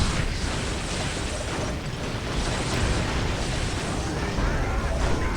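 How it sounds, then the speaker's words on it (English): A homunculus unit explodes in the video game Warhammer 40,000: Dawn of War amid loud, dense battle noise with bursts and crackling, and no clear talk over it. "There's the homunculus explosion."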